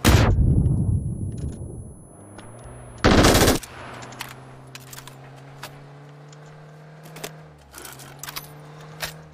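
Gunfire in a multiplayer shooting video game, with a loud opening burst and a sharp blast, followed by scattered distant shots and clinks over a low engine hum.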